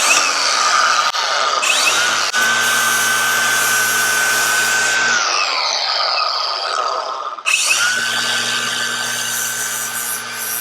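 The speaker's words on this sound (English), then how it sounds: "so the next step is to sharpen my blades. I'm going to be using an angle grinder." Angle grinder sharpening the blade of an EGO lawn mower, a loud steady whining grind in two long passes with a short pause between, close and without talk.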